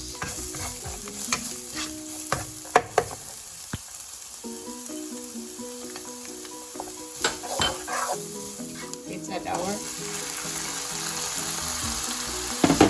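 Onions sizzle in a pan at the start of a corn and egg soup, a steady close crackle broken by scraping stirs and clinks of the utensil, with no one speaking.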